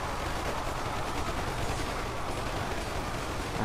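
Dense, continuous gunfire from assault rifles in a large battle in Ultimate Epic Battle Simulator, a video game, with US soldiers fighting orcs armed with swords and shields; the shots blur into a steady loud roar with no pauses.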